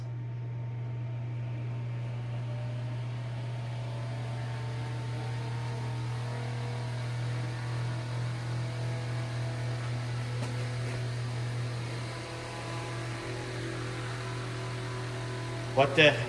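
A repaired Eskimo electric fan runs alone with a steady low motor hum and soft airy whir that holds constant for the whole stretch, ending with a few brief clicks.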